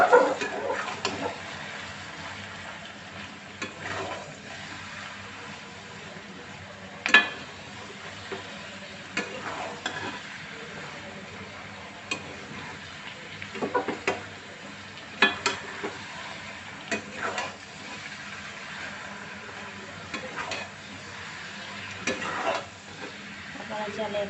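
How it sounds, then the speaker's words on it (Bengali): Seasoned fish roe is fried and turned in a pan, making a soft, steady low sizzle broken by repeated clicks and scrapes of a spatula, with faint sounds of a voice at times. "এটাকে নেড়ে চেড়ে ভালো করে ভেজে দেবো।"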